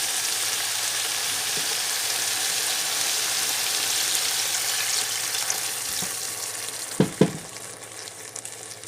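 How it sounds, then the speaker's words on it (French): Broth poured into a hot pot for Congolese bouillabaisse, a steady broad sizzle and fry throughout, with a couple of sharp splashing knocks near the end as the liquid goes in. "Voilà, on met un tiers du bouillon."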